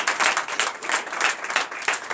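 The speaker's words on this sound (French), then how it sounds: "Donnez l'acclamation à sa parole." A church congregation at a morning prayer service in Benin bursts into applause, a dense burst of clapping from many hands that stays steady for a couple of seconds.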